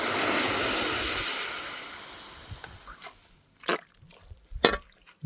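Water poured into a pan of sautéed onion and tomato masala for chana masala, a broad rushing pour that fades out, followed by a few short splashes and drips near the end.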